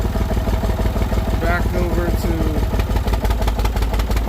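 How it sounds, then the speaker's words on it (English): An old tractor engine runs with a steady low chugging rumble close by, while someone talks over it. "Let me get this old tractor"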